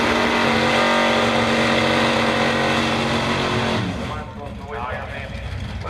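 A big-block Ford Mustang drag car runs loud and close at a track, a dense engine roar with a steady harmonic drone that drops off sharply after a few seconds, leaving crowd and announcer noise underneath.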